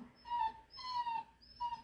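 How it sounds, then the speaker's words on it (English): A dog whimpers in short, high, whining bursts, three cries across about two seconds, fairly close and alone. "That's my dog, if you can hear him."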